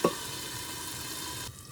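Spice masala fries in oil in a pan with a soft, steady sizzle, quiet and close, ending abruptly near the end of the stretch.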